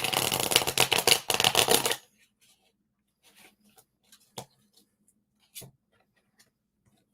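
A deck of tarot cards is shuffled briskly and loudly up close for about two seconds. A few faint taps and clicks follow in near silence.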